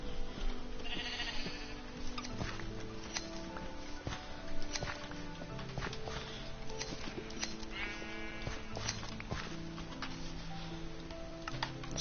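Sheep in the video game Minecraft bleat now and then, short wavering calls that rise over a busy bed of game sounds and ticking for about twelve seconds.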